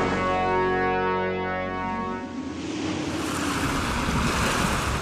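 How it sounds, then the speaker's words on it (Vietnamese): Large ocean waves in an animated seaside scene, a steady loud roar of surf with a low droning tone fading out at the start. "Sóng lớn quá"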